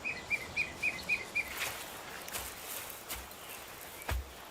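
Water thick-knee giving an alarm call, a run of six short, sharp, evenly spaced piping notes, followed by faint rustling and a low thump in an open outdoor setting.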